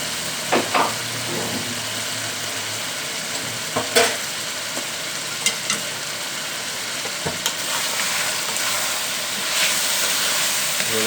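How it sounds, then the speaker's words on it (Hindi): Chicken korma masala with a half spoon of kasuri methi fries steadily in a pot, a continuous close hiss and sizzle broken by a few sharp stirring clinks and scrapes. "तो मैं अच्छे तरीके से फ्राई कर लूँगा"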